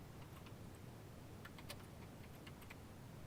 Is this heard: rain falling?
no